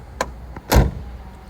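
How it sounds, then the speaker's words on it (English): Doors on a 1962 AMC Rambler Ambassador V8 station wagon closing: a light click, then a solid, heavy thunk close by, with a brief mechanical rattle between. "you can hear when these doors close just how nice and solid and straight this car is"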